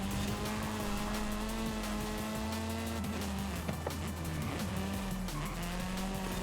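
A drifting car in Forza Horizon 5 holds a steady, loud engine drone with tires squealing through a sustained slide, the pitch stepping and shifting as the car swings through the turn.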